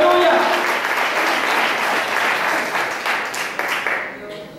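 Church congregation applause, sustained clapping from many people that slowly thins and fades near the end, with a faint voice and a brief tone over the start.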